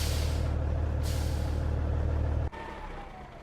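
A truck in the Farming Simulator 19 video game parks and lets out a loud, close air brake hiss over a steady low engine rumble, then the hiss cuts off sharply as the brake releases.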